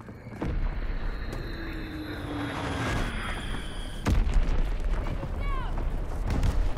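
Azon bomb strike explosions in a military video game, with heavy booms landing one after another under a continuous rumble of battle, and a voice speaking over the blasts.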